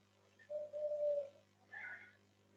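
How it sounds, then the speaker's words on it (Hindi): A bird, likely a dove or pigeon, calling faintly in the background of an online class, a soft drawn-out coo followed by a shorter second call over a low mains hum, no speech. "पीछे कोई पंछी बोल रहा है सर।"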